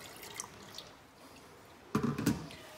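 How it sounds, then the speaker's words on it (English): Water poured into a pan of palak for palak paneer, a short loud splashing burst near the end after a quiet stretch with faint drips. "I add a little water in here."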